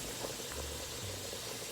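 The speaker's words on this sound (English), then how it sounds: "are all of the ingredients boiling up in this pot" Quiet, steady bubbling from a pot of noodles, potatoes, garlic and onions boiling, a soft continuous simmer heard up close with no talking.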